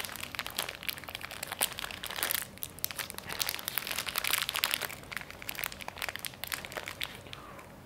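A sample pack of Mike and Ike Zours sour candy is torn open, giving close, faint crinkling and crackling of plastic wrapper in irregular bursts over several seconds, with no talking.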